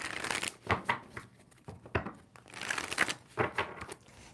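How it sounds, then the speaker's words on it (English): Tarot cards shuffled close up in quick riffling bursts, several rustling runs of crisp card flutter with short pauses between, fairly quiet and alone. "2 more shuffles."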